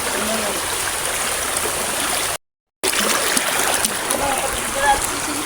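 Water flowing in a stream at a bathing spot near Dolorosa Beach, a constant close rushing and splashing, loud and steady, with a brief gap midway.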